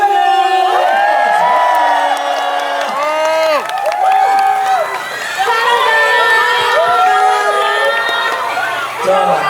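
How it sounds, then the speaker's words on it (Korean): A large concert audience in Cheongju cheers and shouts loudly for the performers, with whoops and excited voices rising and falling over scattered clapping throughout. "인사할 때 다시 한번 큰 박수 한 번 보내주시죠."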